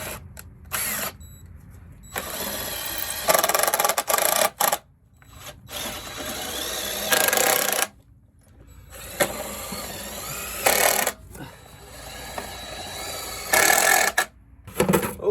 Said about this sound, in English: Let's get a few screws in.